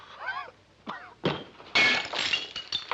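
A drinking glass breaks in a bar in a 1959 western comedy, a sharp crack and brief tinkling crash following some squeaky vocal-like sounds and knocks, fairly quiet overall.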